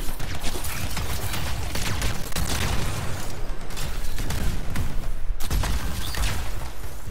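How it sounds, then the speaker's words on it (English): Loud, continuous explosions and gunfire from the video game Anthem roar with dense low rumble, heavy booms and rattling bursts, with brief pauses around the middle and near the end. "The explosions."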